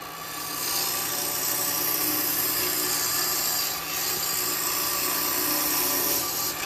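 A woodturning lathe cut with a standard round carbide tool gives a steady, close scraping and rasping hiss as shavings and dust come off the spinning wood, continuous and unbroken, with no talking.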